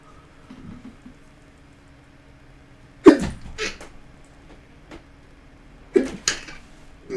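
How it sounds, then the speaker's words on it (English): A person painting tabletop miniatures lets out two sharp sneezes a few seconds apart, each with a quick inhale and a burst of breath, in an otherwise quiet room. "I had the sneeze."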